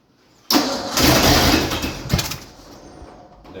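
A junkyard Ford Bronco engine cranks and catches abruptly, then runs with a loud, rough, uneven roar and a brief rev before settling into a lower idle.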